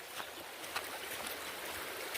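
A mountain stream flows nearby as hikers follow it along a rocky creek bed, giving a steady rushing, gurgling wash of water that fills the short stretch.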